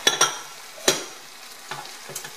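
Ground turkey with a can of unsalted tomato paste being stirred in a pan over low heat, with several sharp scraping stirs and a faint sizzle between them, close by and alone.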